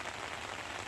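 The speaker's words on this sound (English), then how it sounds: "It's been raining steadily for hours since about 8 o'clock this morning." Steady rain from Hurricane Helene falls in Atlanta as an even, unbroken hiss of drops on surfaces, moderately faint and with no voices.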